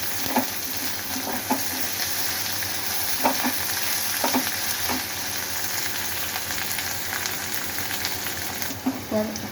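Sliced onions sauté with a pinch of rock salt in a pan for mutton dum biryani, giving a steady close sizzle with occasional scraping stirs and clinks of a spoon throughout.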